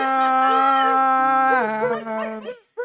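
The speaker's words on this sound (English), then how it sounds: "Dog barks." A dog gives a long, loud, sustained howl that slides down in pitch and breaks off into short yelps and whimpers, heard close and clear with no talk over it.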